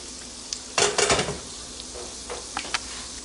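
Cheese-filled aloo vadas are gently stirred in hot oil over medium-high heat, giving a short burst of loud, close sizzling and scraping followed by a few softer clinks and a low, steady fry.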